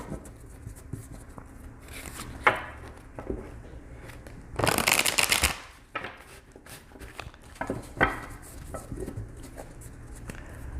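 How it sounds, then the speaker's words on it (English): A tarot deck shuffled by hand during a love reading, producing close papery riffles and soft card slaps, with one louder burst of rapid shuffling in the middle and lighter handling around it. "The way I shuffle is that I shuffle until I'm guided to stop."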